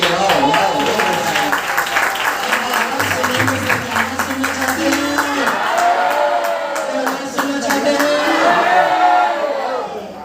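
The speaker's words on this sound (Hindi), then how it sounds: "जोरदार वाली तालियां।" Loud clapping and cheering from a crowd at a gathering, continuous and energetic with whoops and voices mixed through it, rising slightly toward the end before tapering.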